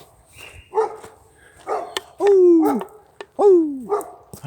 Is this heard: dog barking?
yes